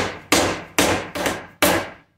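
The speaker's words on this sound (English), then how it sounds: "The dead blow works nice to kind of get the shape that I want." Dead blow and ball peen hammers striking sheet metal held in a bench vise while shaping a notch for a 1996 Ford Ranger minitruck; four loud, sharp, ringing blows spaced about half a second apart, close and alone.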